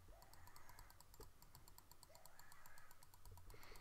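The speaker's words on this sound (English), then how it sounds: "You probably hear my mouse just clicking." Rapid computer mouse clicks from someone playing modded Minecraft, ticking in a steady, regular stream and sitting close over a faint bed of game sound.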